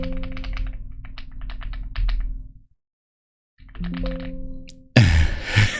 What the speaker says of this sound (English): that's my keyboard because the other one was clicky. This one's is like feels like bubble pop